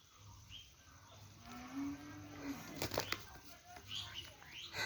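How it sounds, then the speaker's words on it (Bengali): Wings flap and thrash in bursts as three roosters fight, with a low droning hum underneath and scattered rustling throughout. "তিনটা মোরগে একসাথে লড়াই করতেছে।"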